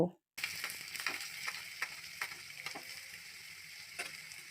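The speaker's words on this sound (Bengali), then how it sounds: "রসুনটা অল্প ভেজে নেওয়ার পর একটা পেঁয়াজ কুচি দিয়ে দেব" Chopped garlic sizzling in ghee in a hot kadai, a steady soft crackle with occasional louder pops and stirring scrapes, heard close and alone.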